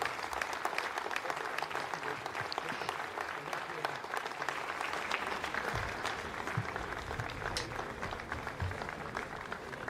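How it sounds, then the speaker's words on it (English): Applause rises in the Ariane 5 launch control room at Jupiter, French Guiana, after satellite separation: a steady, fairly distant wash of many people clapping, with voices faintly underneath. "you heard the applause from the people in Jupiter"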